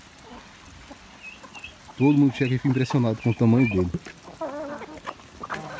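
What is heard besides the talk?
rooster clucking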